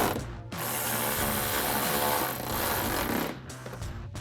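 A ratchet tightens a screw on a Rough Country off-road sport fender flare on a 2024-2026 Toyota Tacoma, giving a loud, close, continuous run of rapid clicking pawl strokes with short pauses between bursts.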